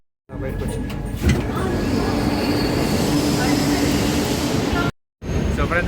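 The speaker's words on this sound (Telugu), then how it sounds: "సో ఫ్రెండ్స్ మనమైతే గిడ్డి మెట్రోలో ఉన్నాము." A metro train runs with a steady, loud rumble and rolling wheel noise inside the carriage, a brief screech near the start, then a short cut-off before the noise returns.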